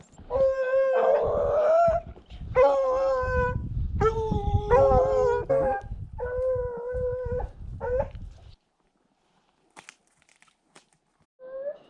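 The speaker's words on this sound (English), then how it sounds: "the dogs are right off this ledge here" Hunting dogs howling together near a cliff ledge in rough country, several long wavering howls with yips overlapping loudly for about eight seconds, then falling to silence broken by a few faint distant calls.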